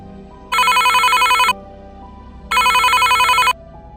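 Phone ringing for an incoming call on a stormy night, two loud electronic ring bursts about a second each separated by a pause, over a low background rumble.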